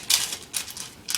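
Scissors snipping into a sheet of parchment paper at a kitchen counter, three quick crisp cuts spaced close together, near and clear with no talk.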